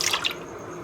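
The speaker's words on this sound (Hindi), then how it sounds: "पहले पानी लाते हैं, बोल लाते हैं, उसमें डालते हैं पानी" Water poured into a bowl while mixing ingredients for a birthday cake, heard as a short, close splash and trickle with dripping in the first third of a second, then dying away into quiet.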